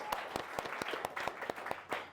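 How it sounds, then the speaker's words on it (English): An event audience claps for a woman named Pearl, distinct sharp claps in a quick, fairly regular rhythm, close and moderately quiet, sounding like a small group or a few nearby hands rather than a large crowd. "give her a massive round of applause, because she was bloody amazing"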